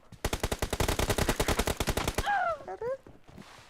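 Rapid automatic gunfire in PUBG Mobile rattles in a fast, even burst for about two seconds, followed by a short synthetic-sounding voice and a few softer effects.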